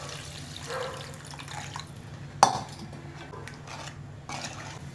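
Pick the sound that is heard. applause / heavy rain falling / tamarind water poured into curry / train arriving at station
tamarind water poured into curry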